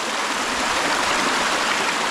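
Mountain stream water flowing steadily on the Hogsback ridge of Mount Baker, a close, continuous rushing and gurgling with no pauses and no voices.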